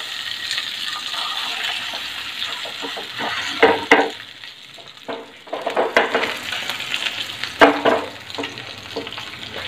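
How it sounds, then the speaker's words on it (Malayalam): Karimeen (pearl spot fish) sizzles in hot oil in a pan on a gas stove over medium flame, a loud close continuous hiss broken by clinks and scrapes as it is turned and stirred. "അപ്പം നമുക്ക് ഈ മീനൊന്ന് ഒരു പുറം ഭാഗം ഒന്ന് പൊരിച്ചെടുക്കാം."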